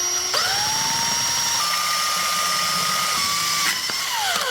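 A power drill with a 1/4 inch bit bores into the plastic Ford emblem on a 2016 F250 tailgate, a steady high-pitched whine that runs close and loud for several seconds, then falls off.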